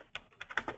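Quick light keystrokes on a computer keyboard, about six clicks in under a second, close and fairly soft.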